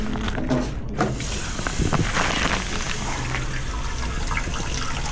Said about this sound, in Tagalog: Ayan ang tulo.